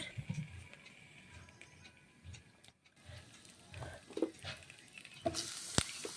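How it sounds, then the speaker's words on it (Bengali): Vegetables, including papaya and carrot, frying in hot mustard oil seasoned with nigella seeds, with a quiet uneven sizzle and stirring scrapes, a brief hush, then a brighter crackling burst and a sharp clack near the end. "তেল গরম হয়ে গেছে বেশ ভালো, সবজিগুলো ছেড়ে দিচ্ছি"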